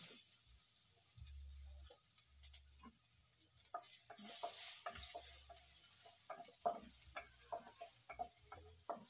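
Garlic sizzles softly in a small splash of oil as it is stirred in a pan, with intermittent scraping and spatula clicks over a quiet, crackling fry.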